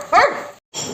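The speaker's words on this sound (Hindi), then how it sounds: "कौन भौंक रहा है?" A dog lets out a single sharp, close bark, followed by a brief silence and then quieter background noise.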